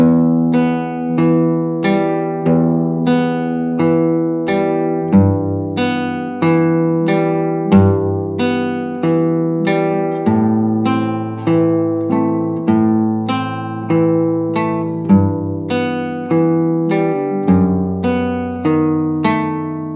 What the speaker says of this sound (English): So very loudly, all across the top, and evenly spaced out will sound like this.